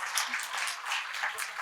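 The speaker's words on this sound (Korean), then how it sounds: "여러분 박수 한번 부탁드립니다." Applause from an audience at a consulting firm's year-end talk concert after a lucky-draw prize, a steady dense wash of many hands clapping alone for under two seconds.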